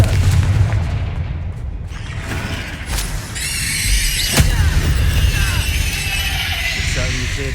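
Fiery spell explosions in the Hogwarts Legacy video game: a booming blast followed by crackling, shattering debris and ringing magical effects, loud and layered with game sounds.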